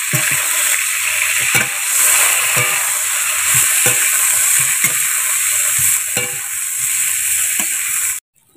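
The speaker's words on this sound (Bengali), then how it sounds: "হালকা করে লবণ দিয়ে ব্রোকলিগুলো ভেজে নেব" Broccoli frying in a pan with salt and turmeric, a loud continuous sizzle with occasional stirring clatters, ending abruptly.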